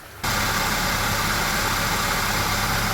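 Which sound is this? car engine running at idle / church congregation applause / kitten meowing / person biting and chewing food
car engine running at idle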